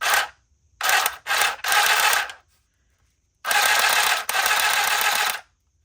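A small handheld sewing machine stitches fabric in short, loud buzzing bursts: three quick runs, a pause, then two longer runs, with near silence between them.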